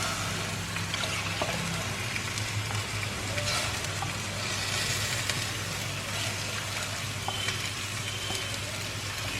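Chicken stock poured into a hot pan of mushrooms, a steady close hiss and bubbling sizzle running throughout with faint stirring.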